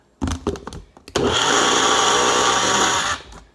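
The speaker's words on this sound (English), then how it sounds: "definitely just did some blending there" A blender making a milkshake whirs loudly and steadily for about two seconds after a few short pulses, then spins down.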